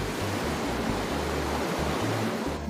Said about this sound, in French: Comme il a beaucoup plu, l'eau dévale à toute vitesse.